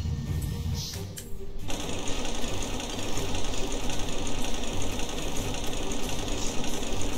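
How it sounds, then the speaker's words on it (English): Bolt crank being turned in the video game Ratchet & Clank: Going Commando, a rapid mechanical ratcheting clatter that runs steadily and loudly after a brief softer opening. "Gotta turn the bolt crank."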